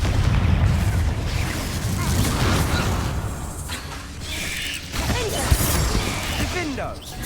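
Confringo blast spells exploding in Hogwarts Legacy, a continuous mix of booms and bursts under dense combat noise, with a sharper pop near the end.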